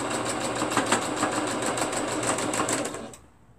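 A sewing machine stitching quilt block fabric, steady rapid whirring and needle chatter running continuously up close, then stopping abruptly near the end.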